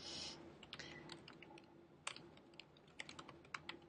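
Typing on a computer keyboard while working on a rubric, with quick irregular key clicks at close range over a faint background hiss and no talking.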